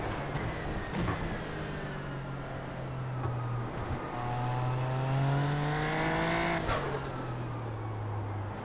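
A Super Formula Lights race car in iRacing at Silverstone drones on a steady engine note, then climbs through a long rising rev, shifts, and settles again, loud and close with little other sound.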